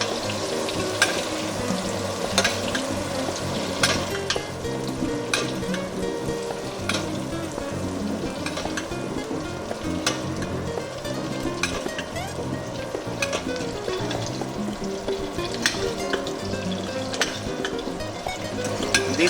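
Butter-basted steak sizzling steadily and loudly in a hot pan, a continuous dense frying hiss with occasional spoon scrapes and clinks as the melted butter is spooned over.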